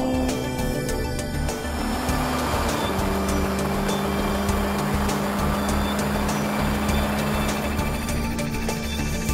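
A land speed race car on a multi-mile speed run, its engine a loud, continuous roar with a shifting tone, heard alone as the car holds speed down the course.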